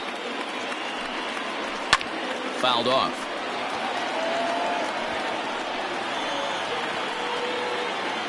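A steady stadium crowd roar from about 30,000 fans rising to their feet in MLB The Show 20 baseball, Cubs versus Diamondbacks spring training. The broad, continuous noise fills the whole clip, with a commentator speaking briefly over it.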